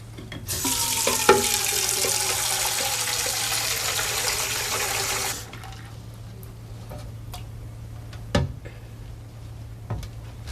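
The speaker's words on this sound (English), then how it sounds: "Fill it with water." Water runs steadily from a tap into a glass for about five seconds, then stops, leaving a quiet room with a couple of light knocks.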